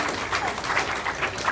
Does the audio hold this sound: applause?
yes